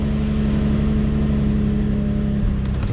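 Infiniti G35 engine with a cylinder 5 misfire runs close by in a steady, loud low hum that dips and shifts briefly near the end, with no speech.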